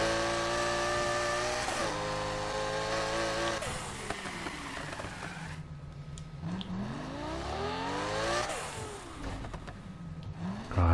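A car engine in Need for Speed Heat revs hard and loud through drifting, its pitch sweeping up and down in long swoops, falling away, then climbing again as the throttle is worked.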